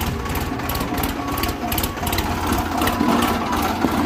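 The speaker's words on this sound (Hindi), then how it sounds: "ये ट्रैक्टर लगा हुआ है साथ में" At a stone-breaking work site, a tractor engine runs close by with a steady, rapid chugging rhythm that continues throughout, fairly loud and with no talking.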